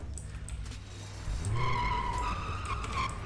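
BMW car in GTA video game skidding, engine revving then a loud sustained tire squeal rising over the motor as the car slides, fairly close and continuous.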